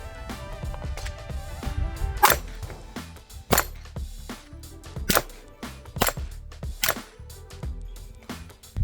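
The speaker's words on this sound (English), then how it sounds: "115, we're gonna do 5 rounds slow and 5 rounds fast." Pistol shots with 115 grain rounds, comparing compensated and non-compensated guns, crack in a fast irregular string of sharp reports mixed with mechanical clacks, fairly distant and moderately loud.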